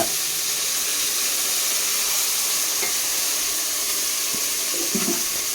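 Masala frying in hot oil for bitter gourd sambar gives a steady, loud hiss across the whole stretch, with a few faint clinks near the end and no voices.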